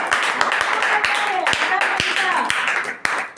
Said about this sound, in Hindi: ताली बजाओ इन लोगों के लिए,